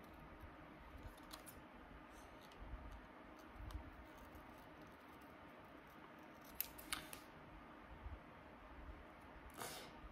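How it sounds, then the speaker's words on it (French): Scissors snip through a glossy magazine page to cut out a picture, a series of faint, close, irregular crisp snips and paper rustles over a quiet room. "je vais essayer de la découper"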